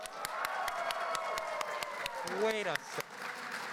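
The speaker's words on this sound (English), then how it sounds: "let's hear a round of applause for Bob" Audience at a PAX East panel on Animal Crossing applauds for Bob, a steady wash of clapping and crowd cheering with a host's voice speaking over it near the end.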